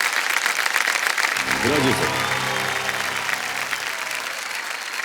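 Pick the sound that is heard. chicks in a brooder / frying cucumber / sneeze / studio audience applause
studio audience applause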